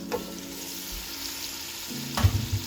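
Boiled chickpeas (channa), Guyanese style, drop into hot oil in a pan, with a steady sizzle and frying crackle and a sharper burst of sizzling near the end, close up and without talk.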